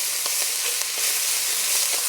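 Tomato paste being stirred into peanut butter soup in a hot pan, a steady sizzle with a few soft scraping strokes close by, no talking.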